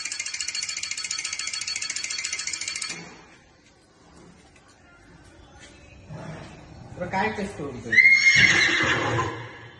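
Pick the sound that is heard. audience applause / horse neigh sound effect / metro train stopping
horse neigh sound effect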